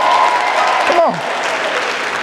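A conference audience claps in dense, loud, continuous applause, and a voice briefly cuts in partway through.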